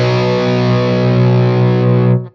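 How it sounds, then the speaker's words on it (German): An electric guitar played through a Victory The Sheriff 44 amp in overdrive gives a loud, sustained distorted chord that rings steadily for about two seconds, then cuts off abruptly. "Also immer noch ein Overdrive mit einer schön artikulierten Verzerrung,"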